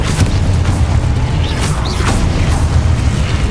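A dense, loud rumbling roar of an explosion spell in Hogwarts Legacy, with booming low crackle and a few sharp swishing bursts layered on top, sustained throughout.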